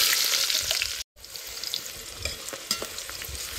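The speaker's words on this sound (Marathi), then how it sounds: "आता हे सगळं भाजूच आणि कांदा त्याच्यात भाजतो." Thinly sliced onions sizzle and crackle steadily in hot oil, a dense frying hiss with small pops, briefly cut off near the start.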